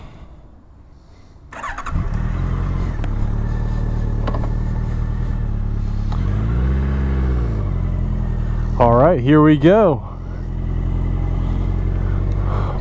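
Air-cooled engine of a 2013 Honda CB1100 motorcycle cranks, catches at about 1.5 s and settles into a steady, close idle with two brief revs near the end; someone speaks briefly over it.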